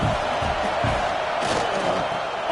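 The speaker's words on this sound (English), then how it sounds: "This crowd knows this defense needs them right now." A football stadium crowd roars steadily and loudly throughout, a dense wall of cheering with no individual voices standing out.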